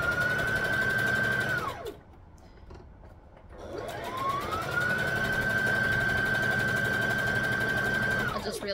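A sewing machine stitches the seams of a fabric wrap skirt, a steady close motor whir running for a couple of seconds, stopping briefly, then starting up again for a longer continuous run.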